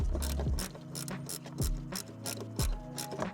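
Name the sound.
wrench loosening windshield bolts on Glasspar G2 boat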